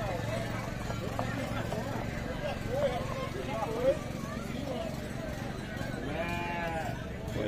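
Sheep bleat among goats and other livestock at a busy farm animal market in Abreu e Lima, Pernambuco, a few wavering calls rising over constant crowd chatter and background noise.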